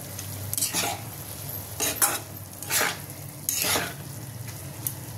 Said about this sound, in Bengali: আর তিল গুঁড়োটা ছড়িয়ে দেবো, আর দেবো বাদাম কুচিটা। এটা আমি ভালো করে নাড়বো।